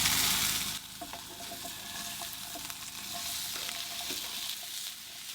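Potatoes hit a pan with garlic, giving a loud sizzle that settles into a steady frying hiss punctuated by small clicks and taps of stirring.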